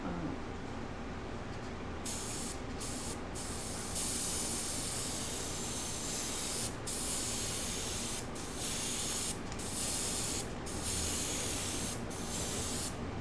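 Airbrush spraying chameleon pigment powder, a steady close hiss running in bursts with brief pauses between sprays, alone without talk.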